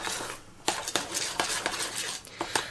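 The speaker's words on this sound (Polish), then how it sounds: "Mieszam ją tak dość energicznie, starając się, aby była gładka i niedwabista i bez grudek." A spoon scraping and clinking against a bowl as thick semolina porridge is stirred vigorously, with a run of sharp irregular knocks over a soft background.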